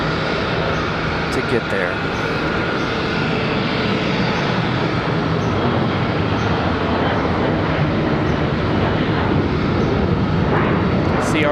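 A Bombardier CRJ regional jet departs Charlotte Douglas airport, a loud, sustained engine roar and rumble that holds steady throughout, with someone talking briefly over it near the start.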